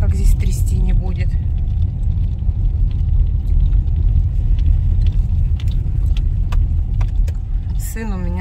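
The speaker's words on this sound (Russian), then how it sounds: "по брусчатке едем, как здесь трясти не будет" A car rolls over cobblestone pavement, producing a steady low rumble and rattling vibration close inside the cabin, with brief voices at the start and end.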